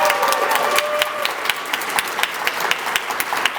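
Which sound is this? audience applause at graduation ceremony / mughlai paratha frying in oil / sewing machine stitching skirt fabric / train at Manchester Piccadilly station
audience applause at graduation ceremony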